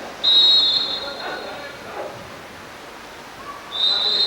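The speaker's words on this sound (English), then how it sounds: "A lot of whistle blowing going, and Taylor's been ejected for 20 seconds" A referee's whistle shrills twice at a water polo match in a pool, short bright blasts at the start and end, over steady crowd and pool ambience with a commentator's voice.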